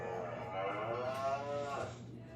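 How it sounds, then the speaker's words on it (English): A cow lets out one long, loud, wavering moo that swells and fades over a couple of seconds, close by and steady, with no talking over it. "that cow sound like it is going through"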